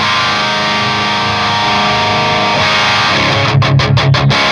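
Electric guitar played through an amplifier with its boost switched off, sustained distorted chords ringing loud and close, then a burst of rapid chugging palm-muted strums near the end.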